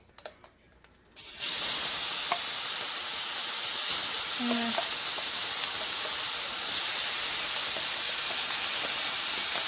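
Minced garlic goes into Alfredo sauce in a hot pan, setting off an abrupt, loud, steady sizzling hiss that starts after a quiet second and carries on without a break.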